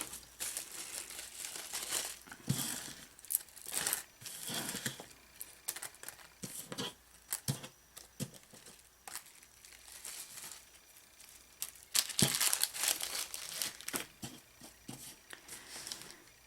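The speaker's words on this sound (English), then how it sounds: "Let me get these little doodads in a bag." Small items are dropped into a crinkly plastic bag, producing irregular close rustles and crackles in bursts, with quieter gaps between handling, and no talking.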